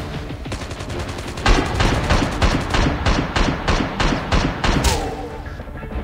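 Gunfire in the video game Call of Duty Mobile: loud, rapid bursts of automatic shots in a rhythmic series of distinct cracks, dense and close, with a thick background of game noise.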